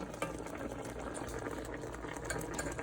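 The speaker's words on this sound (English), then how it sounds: "this is as the chicken's boiling into this new gravy" Baked chicken simmers in a golden gravy, giving a steady, close bubbling and sputtering that continues without a break and without talk.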